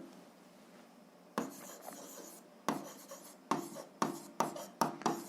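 Pen or pencil scratching out notes by hand for an algebra exercise: a faint stroke, then a series of quick, crisp scribbled bursts growing denser, close up and without speech.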